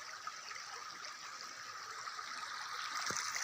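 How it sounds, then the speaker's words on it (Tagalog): Water in an underground river cave flows with a soft, steady rushing hiss, faint and continuous throughout. "Yung sapa diri mga tol."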